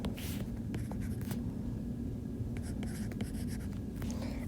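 Pen or pencil writing numbers on paper while working through a polynomial division problem, a steady continuous scratching with short strokes and taps, close and fairly quiet over a constant low hum.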